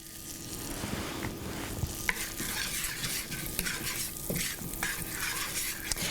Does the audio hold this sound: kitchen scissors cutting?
no